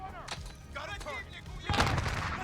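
Bursts of gunfire and a frag grenade blast ring out in Call of Duty: Modern Warfare, with quick cracks early on followed by a louder, broad explosive burst near the end, all fairly faint.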